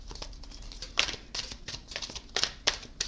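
Tarot cards being shuffled by hand, a quiet run of soft papery riffles and flicks with sharper snaps near the middle and end, close and alone with no talk.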